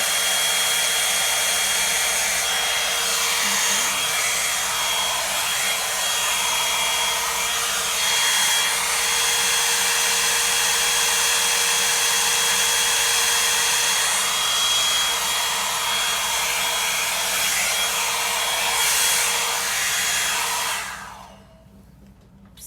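Revlon Salon One-Step hair dryer and volumizer running, a loud, close, steady whooshing roar with a constant motor whine, which cuts off near the end.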